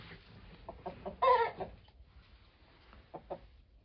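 A young rooster clucks softly a few times, with one louder, sharper cluck in the middle and quiet, scattered clucks around it. The sound is fairly close and otherwise calm.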